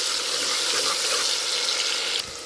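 Green chillies and onion pieces frying in hot oil give a steady, dense sizzle that holds evenly and then drops slightly near the end, with no talking.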